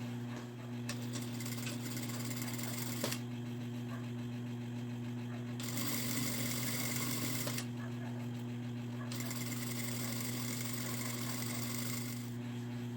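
A sewing machine stitches along the edge of a fabric placemat, whirring in steady runs broken by short pauses, with a low constant hum beneath.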